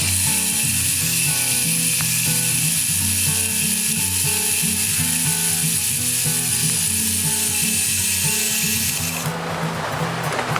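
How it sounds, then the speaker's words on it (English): A bandsaw cuts steel stock into 2-inch lengths during a steel table rebuild: a steady, loud mechanical drone with rhythmic ticking and grinding that turns into a brighter, rougher rasp near the end. "now we're over here on the bandsaw. We're going to cut them off at 2 inches"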